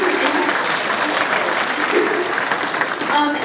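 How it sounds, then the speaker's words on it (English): A crowd of marching band volunteers and families at a high school ice cream social applauds steadily, dense clapping holding at an even level throughout with a few cheers mixed in. "I want to give you all give yourselves a round of applause"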